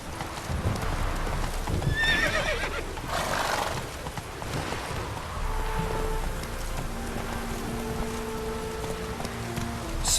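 Hooves clip-clop steadily as a horse gallops in The Witcher 3, with a whinny partway through, over an ambient game backdrop of light rain and faint tonal music.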